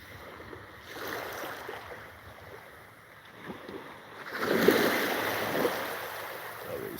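Ocean waves on a Thai beach, quiet and somewhat distant, with soft surges that swell around the middle and grow fuller toward the end over a low hiss of wind.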